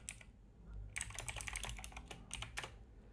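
Rapid clicking keystrokes on a computer keyboard while typing JavaScript code, quick irregular bursts of close, fairly quiet taps with short pauses between.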